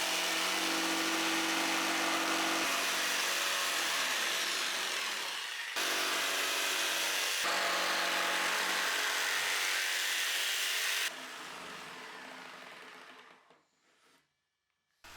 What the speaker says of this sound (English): For that I used our jigsaw